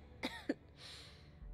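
A character coughs in the video game Starfield: two short, sharp coughs close together, followed by a breathy exhale, quiet and with no one talking.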